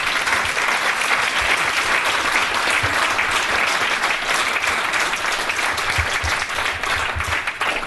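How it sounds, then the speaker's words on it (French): Steady, dense audience applause at a French public talk on mafias in democratic society, loud and continuous throughout with no voices over it. "Sous vos applaudissements."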